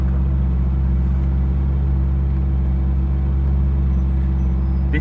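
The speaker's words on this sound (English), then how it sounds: "This is the last 8-cylinder of Ferrari" A Ferrari 458 with a naturally aspirated V8 engine drives along, heard from inside as a loud, steady low engine drone and road rumble with no revving changes.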